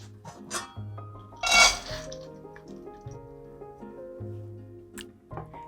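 Soaked lentils, rinsed after an overnight soak, are tipped into a cooking pot, making a brief clattering rush against the metal amid light clinks and drips, with soft background music throughout.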